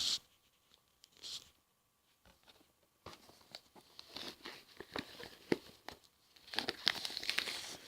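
A Blu-ray box set package for the Metal Hurlant Chronicles series, seasons 1 and 2, is opened one-handed, with close, quiet crinkling of plastic wrap, scratchy tearing and small taps coming in irregular bursts that grow busier toward the end.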